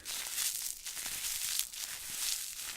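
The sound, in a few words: crinkling a plastic bag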